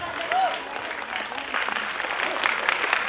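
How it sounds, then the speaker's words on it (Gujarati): Audience applause fills the hall at a dance academy's annual function as a guest is welcomed onto the stage, a steady broadband clatter of many hands with a voice speaking over it. "દીપક સર માટે જોરદાર તાળીઓ થઈ જાય પ્લીઝ."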